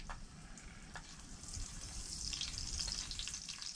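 Breakfast sizzles in a pan inside an ice fishing shack on an Iowa lake, a steady close frying hiss with a few faint clinks and stirring noises and no voices.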